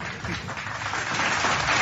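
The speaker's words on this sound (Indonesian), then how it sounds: "oke, tepuk tangan kalau begitu" Brief applause from an audience, a dense wash of many hands clapping that swells slightly louder toward the end, with no talk over it.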